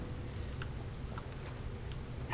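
In the video game Elder Scrolls Online, soft, steady rain patters quietly near a stable and bonfire, a faint continuous hiss broken by a few small drips.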